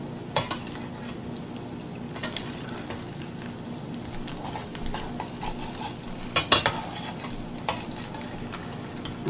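Egg foo young patty cooking in a pan at home, a steady low sizzle under scattered utensil scrapes and clinks, no talking.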